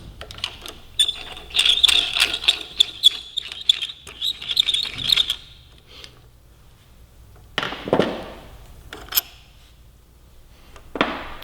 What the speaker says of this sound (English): Let's go ahead and get that pivot bolt off.